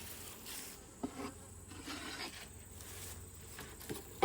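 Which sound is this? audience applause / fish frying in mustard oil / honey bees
honey bees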